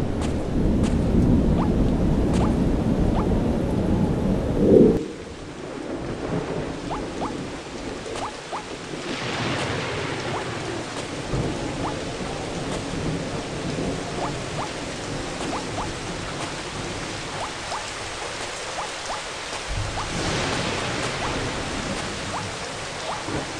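Rain falling steadily in the BattleBlock Theater video game, a soft continuous hiss after an opening burst of louder rumble, with faint distant thunder.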